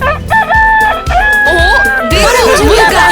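A rooster crows loudly and close by in a few drawn-out calls, with voices talking over and between them.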